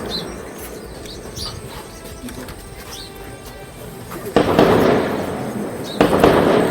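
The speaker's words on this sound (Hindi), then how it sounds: "फायरिंग का तबादला शुरू हुआ। ये आवाजें आप साफ सुन सकते हैं।" Sharp gunshots crackle in the distance during a security forces encounter with militants in Kashmir, against steady outdoor ambience, with a louder burst of rapid reports near the end.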